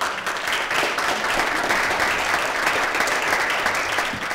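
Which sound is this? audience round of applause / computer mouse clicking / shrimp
audience round of applause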